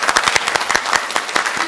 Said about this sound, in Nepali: उहाँलाई जोरदार ताली एकचोटि उडिदिनु होला